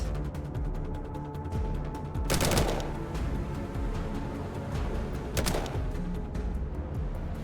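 Gunshots in the video game Colony Ship ring out as two sharp, loud bursts a few seconds apart over a busy, steady game background.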